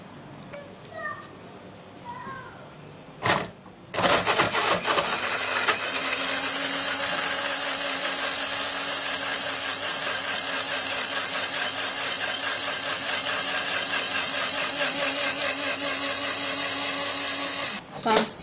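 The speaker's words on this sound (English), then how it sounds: "So you're gonna blend it, or you can actually grate it to get the juice out of it, but for here I'm gonna blend it." After some quiet talk and a short burst, a kitchen blender whirs loudly and steadily for about fourteen seconds, blending ingredients into juice for a facial hair remedy, then stops briefly and restarts.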